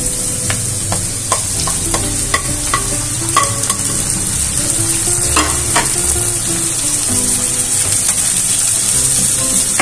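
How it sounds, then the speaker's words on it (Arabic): Tomatoes sizzle and sauté with onion and garlic in a pan while being stirred, a steady close frying hiss broken by brief scraping and clinking stir strokes throughout. "نترك البندورة تتشوح مع البصل والثوم"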